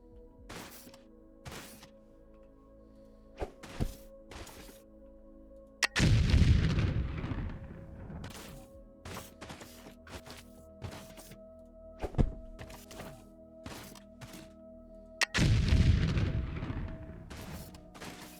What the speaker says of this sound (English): I'm going to try just detonating that